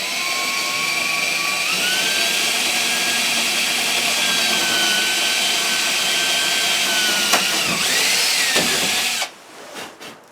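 Power drill boring small holes in a cabin: a loud, continuous high whine that rises slightly in pitch mid-run, then cuts off abruptly, followed by a few quiet knocks.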